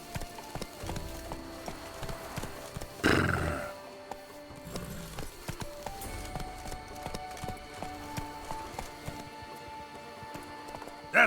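A horse in The Witcher 3: Wild Hunt (Blood and Wine) gallops with a steady rhythmic clip-clop of hooves, interrupted by a brief, louder snorting burst, heard up close.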